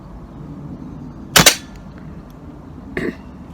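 Pellet gun shots fired at matches, two sharp cracks spaced about a second and a half apart, the first louder and doubled, over quiet outdoor background.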